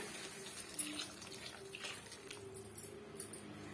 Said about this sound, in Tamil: நம்ம வந்து மிக்சி ஜார் அலசிட்டு நான் தண்ணி சேர்த்துக்கிறேன்